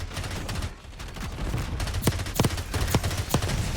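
A Stryder .22 burst pistol fires in Black Ops 6 as several sharp, close shot bursts in the second half, punching through constant loud battle noise and rumble.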